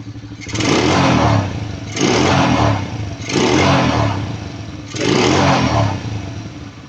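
An engine, just after a carburetor tune, revs up four times in succession, each burst roaring loud and close before easing back toward a rough idle.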